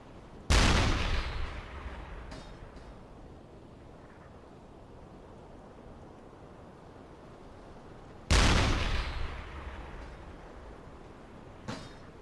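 A U-boat deck gun firing armor-piercing rounds in the UBOAT game: two loud, sharp booming shots several seconds apart, each trailing off into a rumbling echo over steady background noise.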